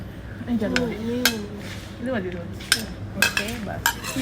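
A plate is slid aside on a dinner table, giving several short clinks and knocks of crockery and cutlery that come close and clear over soft background music and a murmuring voice.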